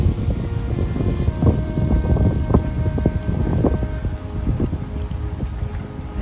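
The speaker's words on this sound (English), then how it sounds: "It's a beautiful windy day." Wind at St. Pete Beach, a steady loud gusting rush buffeting the microphone, with surf rumbling beneath and no voices.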